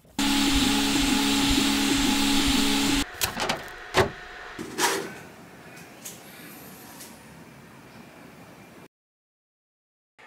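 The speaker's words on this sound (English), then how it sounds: "we can just hit print in the slicing software, select my printer" An AnkerMake M5 3D printer starts a print: a loud steady whirring hum for three seconds, then a series of sharp clicks and motor bursts, settling into a quieter continuous whir before stopping.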